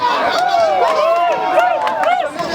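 Wedding celebration with a crowd producing loud, continuous high wavering ululation and clapping, voices rising and falling in trilling arcs over dense hubbub for the whole stretch.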